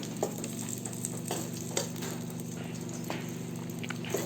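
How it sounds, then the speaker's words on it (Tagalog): Chopped white onions frying in a pan of oil for a pork chop topping, a steady close sizzle with a low hum and occasional light taps and stirring clicks. "magluto lang tayo ng puting sibuyas para pang toppings mamaya"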